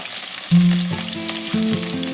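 Ridge gourd pakodi fritters sizzle steadily in hot oil, a continuous close frying hiss with soft bubbling swells as pieces are added, no talking.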